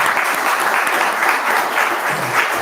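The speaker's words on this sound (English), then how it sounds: "So why don't we give them a round of applause." Steady audience applause fills a public opening ceremony for a wastewater treatment plant, a dense, even wash of many hands clapping at moderate loudness with no voices over it.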